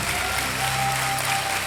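Studio audience applause on the Kaun Banega Crorepati game show, a steady, dense wash of clapping from a large crowd with faint music tones underneath, filling the whole short stretch at even loudness.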